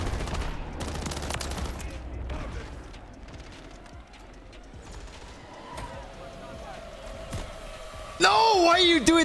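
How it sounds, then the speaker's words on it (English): Gunfire in Call of Duty Modern Warfare 3, with bursts of automatic shots near and far under an ongoing game mix, and a louder electronic tonal effect near the end; a player talks over it. "There's someone shooting at me."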